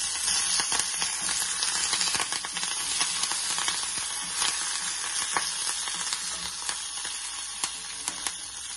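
Dried red chillies and curry leaves sizzle in hot oil for a Kerala cheera curry, a close, steady crackling hiss peppered with sharp pops, with no talk over it.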